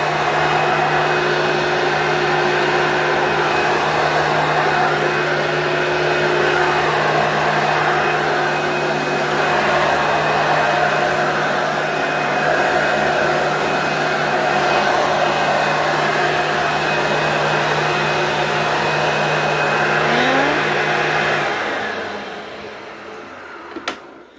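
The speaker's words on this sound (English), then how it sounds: "There you have it for the Hoover Power Drive Supreme." A Hoover Power Drive Supreme upright vacuum cleaner runs with a loud, steady motor whine and airflow roar for about twenty seconds, then winds down sharply and clicks off.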